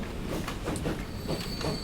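A train pulling in within the video game Transport Fever 2, UK mods setting: a low rumbling roll with soft rhythmic clicking of wheels over rail joints and a faint high metallic whine, steady and moderately close.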